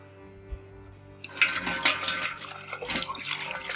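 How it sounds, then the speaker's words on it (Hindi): Water poured into a blender jug holding blended paste while cooking Peshawari-style mutton karahi, a steady close splashing rush that starts suddenly after a quiet moment and runs to the end. "इसी में थोड़ा सा पानी डाल के"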